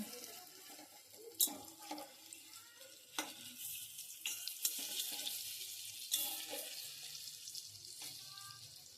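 Masoor dal fritters made with gandha leaves, frying in oil in a kadai while they are flipped one by one. Soft sizzling sits under sharp clinks and scrapes of a utensil against the pan.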